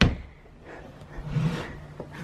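An underwear drawer slides open with a wooden rubbing scrape and a couple of soft knocks and bumps, close by, alone in a quiet room.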